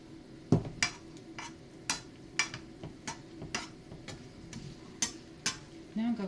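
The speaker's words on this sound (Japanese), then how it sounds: "じゃあ今度は裏返して裏も焼きますね。" Grated daikon radish cake fries in a pan after being turned over, a soft low sizzle under a series of sharp, evenly spaced ticks and taps from a utensil against the pan, fairly quiet and close.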